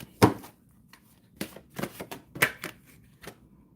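Tarot cards riffle and slap in a few quick bursts separated by short pauses, close and crisp against a quiet room.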